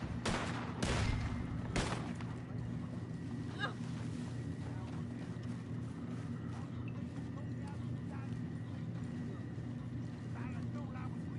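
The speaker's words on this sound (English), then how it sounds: "Oh, I guess we're just shooting people." Gunfire from a shootout at rowboats in Red Dead Online, with a few sharp, loud shots near the start and then sporadic faint distant pops over steady background ambience and flowing water.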